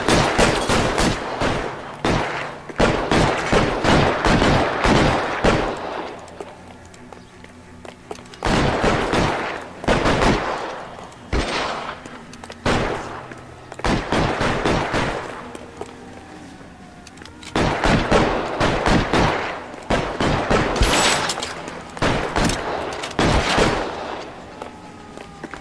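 Bursts of gunfire in L.A. Noire, rapid volleys of shots cracking out in several dense clusters separated by short pauses, loud and close with echoing tails.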